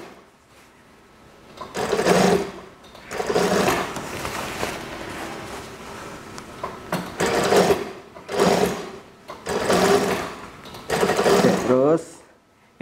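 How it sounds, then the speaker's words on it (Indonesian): Sewing machine stitching the armhole of a middle-school uniform shirt, running in several bursts of a few seconds each with short pauses between, close and fairly loud, with quiet handling noise in the gaps. "Terus ini saya jahit seperti ini, bagian bawahnya sambil ditarik teman-teman, biar hasilnya nggak berkerut nantinya."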